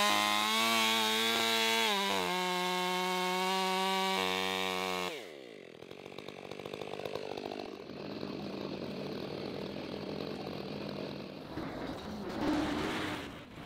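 A chainsaw roars at high revs while cutting through a huge tree stump, the steady whine shifting partway into a lower, rougher grinding chew through wood before rising again near the end.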